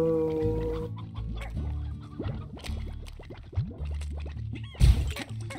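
Chicken clucking in the video game Slime Rancher: several short, choppy clucks scattered over busy game sounds and music, with a louder burst near the end.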